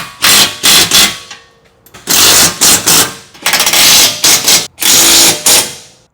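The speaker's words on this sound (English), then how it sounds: "now we're tightening down the 5th and final bolt" A bolt on a passenger-side Mercedes Sprinter box mount is tightened with a hex key and a 9/16 socket, giving four loud bursts of ratcheting and whirring separated by short pauses.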